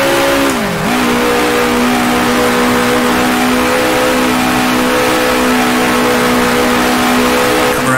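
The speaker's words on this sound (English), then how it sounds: "can hear Bandini closing in" A 1966 Formula One racing car engine in the Grand Prix Legends video game screams loud and close at high revs. After a brief drop in pitch it holds a steady, sustained drone.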